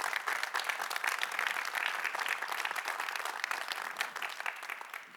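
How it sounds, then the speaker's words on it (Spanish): Sustained applause from a large church congregation, dense steady clapping that holds throughout and tapers slightly at the end. "Dale un aplauso a Jesús"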